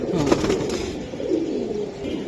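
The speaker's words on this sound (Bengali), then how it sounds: "এই যে দেন চুইনা কবুতর" Pigeons coo in low, rolling, repeated phrases close by, with faint background noise throughout.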